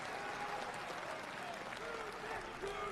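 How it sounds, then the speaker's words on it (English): Faint audience applause sounds as a dense, distant wash of clapping that holds steady throughout. "Can we give a round of applause for Russia?"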